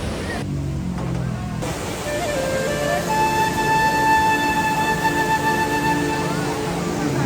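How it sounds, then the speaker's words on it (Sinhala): A steady broadband rush of Ravana Falls in Sri Lanka fills the scene, continuous and fairly loud, with a brief dip near the start. "මේ තියෙන්නේ රාවණ ඇල්ල."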